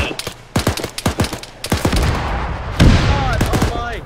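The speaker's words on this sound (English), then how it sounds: "Are those mortars closing in on our position?" A loud barrage of rapid gunshots and heavy mortar blasts in a military video game, sharp repeated cracks followed by a deep booming impact and lingering rumble, with voices heard over the fighting.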